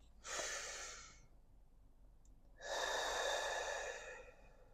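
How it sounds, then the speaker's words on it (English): Two deep, audible breaths taken close to the mic before reading aloud, a long inhale followed by a longer exhale, each airy and fairly loud against a quiet background. "I'm going to take a deep breath before I read"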